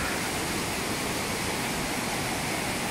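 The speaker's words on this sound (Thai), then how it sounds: "เป็นน้ำตกที่สวยมากนะครับ" Tat Sae waterfall in Laos roars as a constant, loud broadband rush of falling water, steady and unbroken throughout with no voices.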